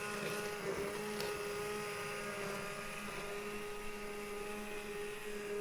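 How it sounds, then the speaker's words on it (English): An immersion blender runs with a steady, fairly quiet motorized whir, humming at a constant pitch continuously without pause. "The emulsifier, the immersion blender."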